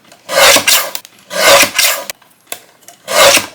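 A cardstock panel being cut on a paper trimmer: three separate rasping, scraping strokes about a second apart, close and fairly loud, with short quiet gaps between them.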